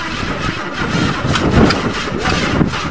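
A 1994 Chevrolet Cavalier engine with blow-by being cranked to start, giving a continuous loud rough churning and whirring that stays steady for about three seconds with no clean catch.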